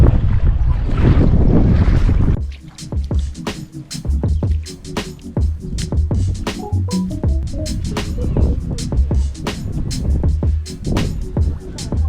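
Strong wind buffets the microphone on the coast at Favignana, Sicily, loud gusty rumble at first, then dropping to a choppier, uneven blustering with faint water sounds and a few voices in the background.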